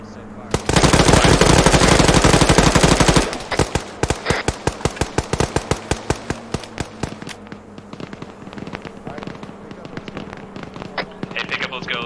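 A squad fires on command in a military simulation video game set in Takistan. A dense burst of automatic gunfire lasts a few seconds, then breaks into scattered single and short-burst shots that thin out over the rest of the clip.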